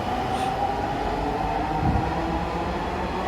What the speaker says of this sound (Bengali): একটি ট্রেন আমি আসতে না আসতে ছেড়ে গেল।